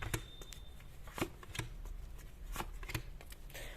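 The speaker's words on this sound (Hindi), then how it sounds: "पहले मैं कार्ड्स निकाल देती हूँ" Tarot cards being handled and drawn during a reading, with sharp, close flicks and snaps of card stock coming in an uneven series of about a dozen distinct strikes against quiet background.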